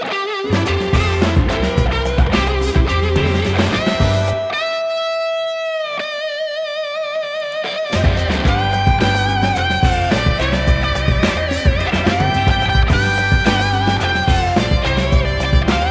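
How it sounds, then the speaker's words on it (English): Overdriven electric guitar solo played through a Vox-style amp turned nearly all the way up, loud and sustained with bending lead lines, a brief thinner stretch of held notes mid-way, then the full distorted tone returning. "that's basically just the guitar going through my top hat Vox style amp, kind of dimed"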